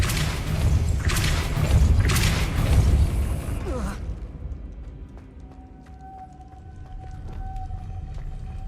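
The Depulso spell cast in a Hogwarts wizarding video game, a loud whooshing, rumbling magical blast lasting a few seconds before dying away into quieter ambient game sounds.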